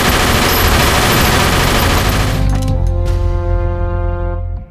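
Thompson submachine gun firing a long, rapid burst of rounds, loud and continuous, then cutting off and leaving ringing tones and a fading tail.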